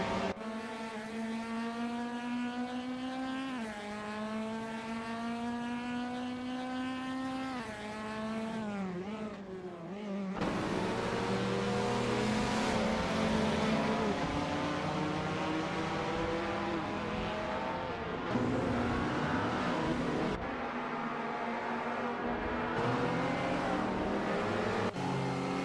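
Race cars in a video game roar past with rising and falling engine pitch through gear changes, an intense continuous engine sound that grows louder and busier as more cars join partway through, with no talking.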